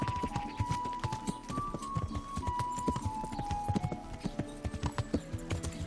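Steady clip-clop of horse hooves trotting at a brisk rhythm in the video game Kingdom Come: Deliverance, close and continuous, with a faint tonal music line running underneath.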